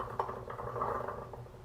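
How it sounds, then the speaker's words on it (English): Canned chickpeas tumble into a blender for homemade hummus, giving a brief soft clatter and patter of beans against the container. "you put the chickpeas in the blender"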